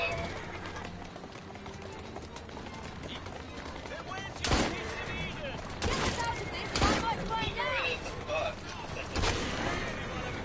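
Gunshots crack in several sharp bursts in Assassin's Creed Syndicate, spaced a second or two apart over a busy street-like game backdrop while voices talk.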